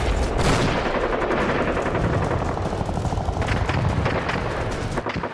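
An Indian Army Make in India 7.62 mm medium machine gun fires a sustained loud automatic burst, dense rapid rounds running without pause for several seconds, close and booming with no voices.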